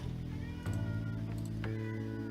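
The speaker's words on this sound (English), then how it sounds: "We're going to listen to my cat meow." A house cat meows close by, two drawn-out tonal meows in quick succession, clear and fairly loud against a quiet room.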